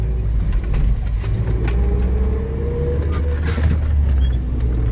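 A UAZ 2206 off-road vehicle engine rumbles steadily at low revs in second gear, a continuous deep drone with faint chirping birds in the background.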